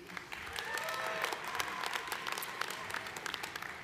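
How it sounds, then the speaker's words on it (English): At a college commencement, the crowd applauds graduating seniors of an environmental science program with a sustained, even roll of clapping from a large audience, heard at moderate distance with faint cheering mixed in. "Let us applaud the accomplishments of the graduating seniors in the environmental science program."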